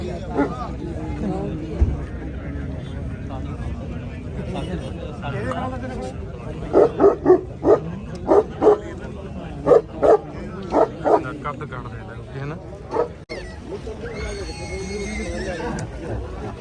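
A dog barks in a quick series of sharp, loud yaps amid crowd chatter and background commotion at a gathering in Sri Muktsar Sahib, with a whinny-like cry later.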